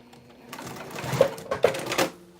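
A domestic sewing machine stitching a crossbody bag, a steady mechanical whir with a few sharper clicks and thumps from the needle, close and alone without talk.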